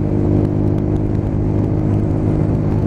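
A Honda CB125 motorcycle engine pulls hard under throttle on a road ride, its loud, steady mid-pitched drone mixed with wind rush and staying close and continuous, with no voices.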